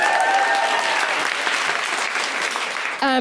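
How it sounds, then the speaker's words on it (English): Live comedy podcast audience applauding, a thick wash of clapping and a few whoops at full volume, cut off abruptly as a voice begins at the very end. "Clap for me, man."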